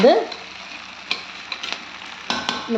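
Vegetables for a Tamil-style pasta sauté in a pan with a soft, steady sizzle, broken by several sharp scrapes and clinks of a spoon stirring against the pan, no voices.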